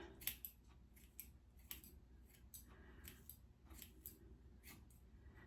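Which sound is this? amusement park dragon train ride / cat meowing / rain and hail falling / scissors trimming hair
scissors trimming hair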